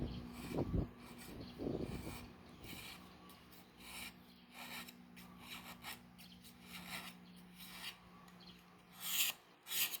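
Repeated dry rasping strokes of a knife scraping along a palm strip, steady back-and-forth rhythm, close and fairly loud.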